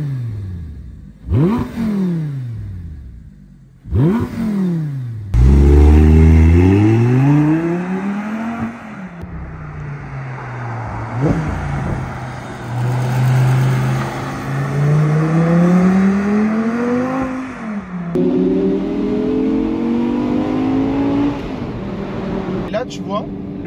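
An Audi R8 V10 Spyder R-Tronic heard from outside revs and accelerates hard through several rising gears, a loud, close, howling V10 wail with pops between shifts and brief gaps as the gears change.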